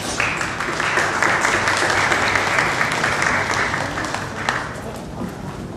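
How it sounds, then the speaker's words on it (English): Sustained audience applause at a Crespi Carmelite High School honoring ceremony, as students and alumni stand: dense, steady clapping from a large crowd, loud throughout and easing slightly toward the end. "so we can give you a well-deserved round of applause"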